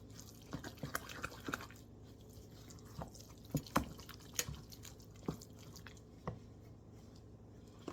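A thick blended lentil and tofu loaf mixture is poured into a parchment-lined loaf pan, giving faint wet plops, drips and squishy splats scattered irregularly over a quiet background.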